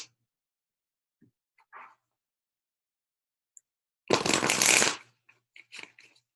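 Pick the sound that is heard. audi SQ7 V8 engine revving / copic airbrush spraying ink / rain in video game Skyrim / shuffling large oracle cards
shuffling large oracle cards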